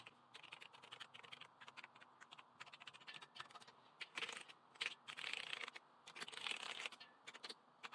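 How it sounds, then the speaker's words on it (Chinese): Keys are pressed on a repaired Logitech G910 mechanical keyboard during a test, giving quiet, irregular clicking taps that bunch into faster flurries, with no talking. "我们测试一下按键。"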